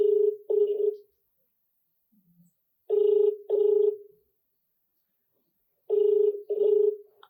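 A telephone call rings unanswered in three double bursts separated by silent gaps, clear and close, with no voices between the rings.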